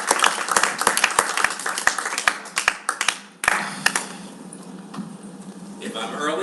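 Scattered audience clapping at a conference talk, a burst of sharp claps that tapers into crowd murmur and room noise, with a voice speaking afterward.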